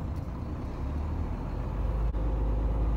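A heavy vehicle drives in with a deep, rumbling low engine drone that grows slightly louder, steady throughout with no talking.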